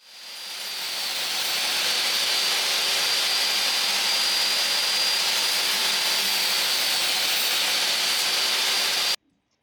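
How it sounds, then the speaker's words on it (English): A DeWalt jobsite table saw whines steadily and loudly for about nine seconds while cutting a dado in an infeed support table, then stops abruptly. "To cut the dado, I just decided to use the table saw since I was there"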